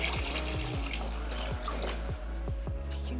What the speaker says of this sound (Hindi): 2 लीटर के करीब पानी इसमें मैं और डाल रही हूँ